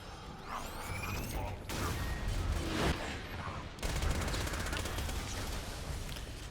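Rapid automatic fire from a Hyperion SMG in the video game Borderlands 2, a continuous rattling stream of shots with mechanical clicks and whooshes, steady and moderately loud throughout.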